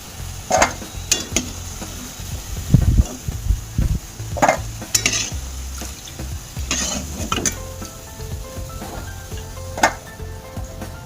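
Semolina gulab jamun fry in oil over a medium flame, with soft bubbling sizzle under repeated scrapes and clinks of a utensil stirring in the pan, heard close with no talking.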